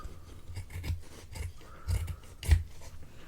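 Scissors cutting through craft material for a handmade seahorse, giving a few close, soft rasping snips that swell and fade in quiet, irregular strokes.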